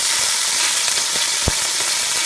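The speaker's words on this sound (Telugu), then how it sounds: "ఆయిల్ కాగిన తర్వాత బిర్యానీ ఆకు, పట్టా, లవంగ, గరం మసాలా, ఇలాచీ పౌడర్ అన్నీ వేసుకోవాలి." Bay leaf, cinnamon, cloves and spices sizzle loudly in hot oil, a dense close hiss with a few sharp pops, no talking.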